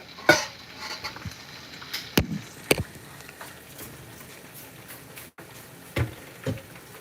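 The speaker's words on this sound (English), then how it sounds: "So this is going to simmer." Red kidney beans cooking in a pot for a Liberian-style dish, with a soft low simmer under scattered close clinks and scrapes of a spoon against the pot.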